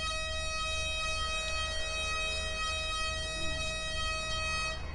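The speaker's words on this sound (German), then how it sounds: "Das tönt irgendwie wie so ein hoher Bombenalarm, Mann." A high-pitched bomb alarm siren in the video game GTA 5 Online, a loud continuous wailing tone held steadily throughout with no pause, alone without voices.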